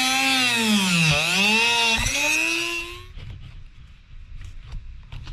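A Dremel rotary tool cuts through a metal speaker mounting ear, a loud whining tone that sweeps down and back up for about three seconds before stopping, followed by faint clicks and handling noise.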